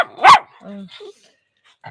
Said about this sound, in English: we might have some barking dogs in the background